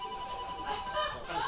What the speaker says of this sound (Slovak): Nikoho mobil to nie je a zvoní.